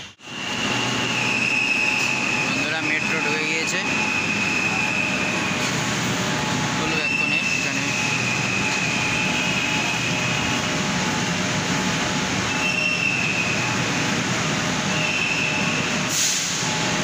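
A Kolkata metro train runs between Salt Lake Sector V and Sealdah, with a continuous loud rumble from inside the car, recurring high wheel squeals, clanks, and voices talking under the noise.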